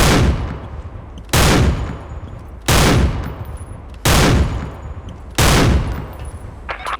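Barrett Siege sniper rifle in the shooting game SF2, five loud, sharp shots spaced about one and a half seconds apart, each with a trailing echo, alone with no voices.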